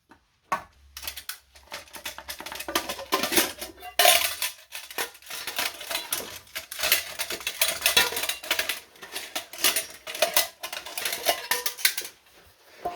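Metal Trangia camping stove pieces, a small kettle and saucepans, clatter and scrape as they are handled. Busy, irregular clinks and knocks run steadily close up, with no talk.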